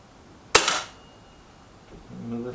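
A single air rifle shot from a Kral NP500 or Gamo Venari, a sharp close crack that dies away quickly, followed by faint low rustling.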